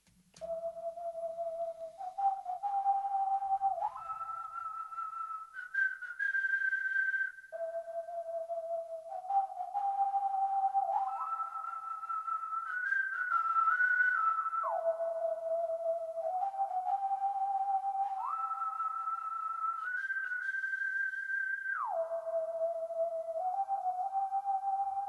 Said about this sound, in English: You're going to hear this whistle turn into this flute.